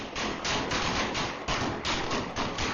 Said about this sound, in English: the gunfire stops and then starts again